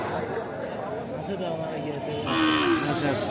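Part-Sahiwal cattle at a busy cattle market, a close, drawn-out moo rising over steady crowd chatter and nearby voices.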